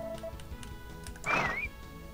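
A horse whinnies in the farming game Harvest Moon: Back to Nature, one short rising-and-falling neigh heard over a busy layer of background game music.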